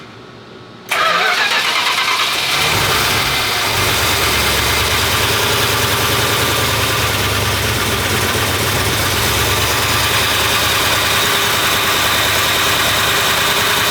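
An engine started for the first time, a sudden catch after near silence, then a loud steady running idle with a rough low rumble, slightly low on timing, continuing alone.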